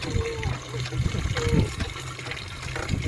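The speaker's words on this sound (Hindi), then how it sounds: "ये आप देख सकते हैं घड़ों में ये पानी वगैरह किस तरह भर के लेके जाते हैं यहाँ से" Water pours and gurgles into clay pots at an outdoor water source in the Cholistan desert, a close, continuous splashing fill with people talking over it.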